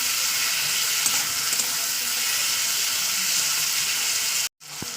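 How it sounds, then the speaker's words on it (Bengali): Tomatoes frying in hot oil give a steady, close, loud sizzle that runs evenly throughout, cutting out abruptly for a moment near the end before resuming. "আমার টমেটোটা প্রায় ভাজা হয়ে এসছে"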